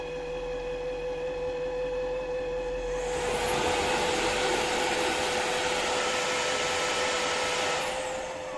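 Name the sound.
Ultenic U12 Vesla cordless wet-dry vacuum cleaner cleaning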